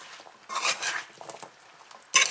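A spoon scrapes and stirs chunks of pumpkin in a pot for Guyanese wedding-house-style bhunjal pumpkin, in two close bursts of clattering mixing with a quieter scrape between them and a sharp clatter at the end.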